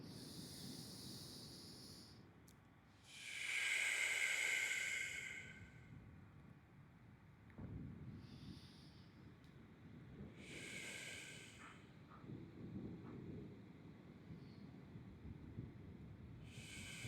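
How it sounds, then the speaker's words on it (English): Slow deep breathing during a guided meditation, a few soft drawn-out inhales and exhales with quiet gaps between them, faint and close in a still room. "To close, we'll take 3 deep breaths again."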